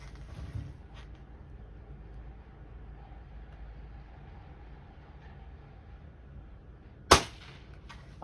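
A single sharp report from a 19-year-old Crosman 800X Quest spring air rifle near the end, loud and close, after a stretch of quiet low background rumble.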